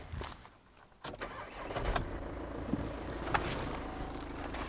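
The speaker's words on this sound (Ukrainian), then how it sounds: "Давайте я зараз спробую запустити, а ви подивитесь, послухайте" Volkswagen Passat B7 Alltrack 2.0 TDI diesel engine starting: a quiet pause, a sharp starter crank at about one second, then the engine catching and settling into a steady close idle.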